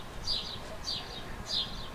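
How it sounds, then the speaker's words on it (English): Three short bird calls repeat at an even pace, faint and distant over a low background rumble. "these birds can only make that one sound"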